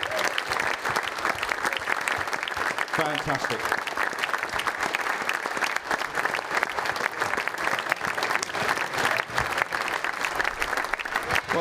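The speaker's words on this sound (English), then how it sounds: "Keep the applause going." Continuous crowd applause at a Man v Fat football celebration, many hands clapping steadily and loudly for the whole stretch, with a voice speaking briefly over the top.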